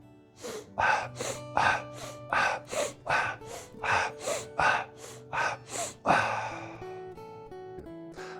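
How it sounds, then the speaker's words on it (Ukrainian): Sharp, forceful breaths in a Strelnikova breathing exercise, the head-turn drill: about a dozen quick, evenly paced sniffs and exhales, close and loud, over a faint steady tonal background. "Вільний вдих, видих."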